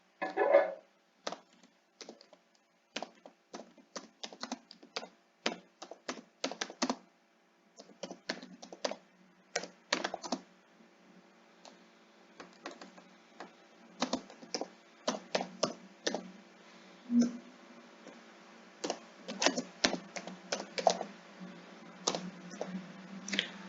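A school name is typed on a computer keyboard into an MHT CET 2023 registration form: irregular bursts of crisp, close keystrokes with short pauses between runs, and no voices.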